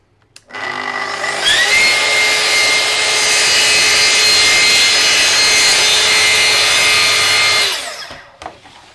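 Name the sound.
plunge saw cutting wood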